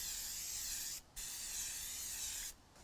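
A can of cooking spray hisses steadily onto a pan in two long bursts with a short pause between, close and loud.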